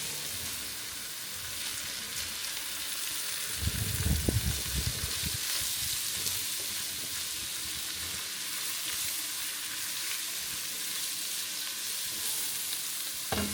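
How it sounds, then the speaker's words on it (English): Vegetables for a chilli frying in a pan, a steady broadband sizzle running throughout, with a burst of stirring scrapes and clatter around the fourth second before settling back into continuous frying. "stir it and get it to just coat all the veggies. Cooking it for like a minute or so with that."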